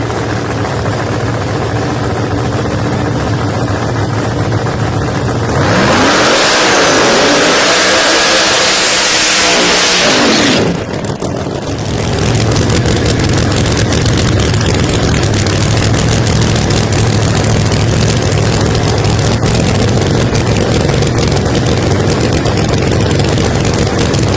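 Drag racing cars at a PDRA event start up in the morning, engines idling loudly with heavy low rumble, then one revs hard in a sustained roaring burst for several seconds before settling back to a rough, continuous idle.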